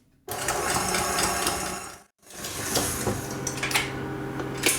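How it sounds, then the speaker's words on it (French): An electric whisk beats eggs and sugar in a bowl, a loud continuous whirring with rattling against the bowl, cut off for a moment, then restarting and running on steadily without talk. "je vais donc fouetter tout ça environ 5 minutes"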